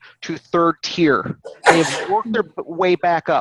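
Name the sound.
sneeze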